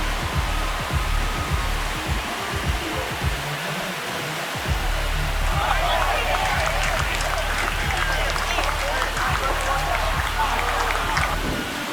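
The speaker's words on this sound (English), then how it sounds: "This crowd has really come alive." In MLB The Show 26, a Giants vs. Cubs stadium crowd roars and applauds in a dense, continuous wash of cheering that swells louder midway, with a commentator talking over it.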